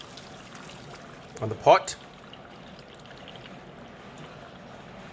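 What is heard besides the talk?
hot water poured away from a pot after boiling pork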